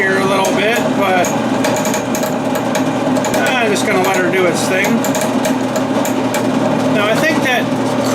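A power drill bores a hole in a workshop with a steady, loud, high whine and a crackling grind throughout, as someone talks over it.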